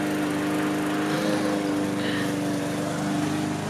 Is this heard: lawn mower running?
yes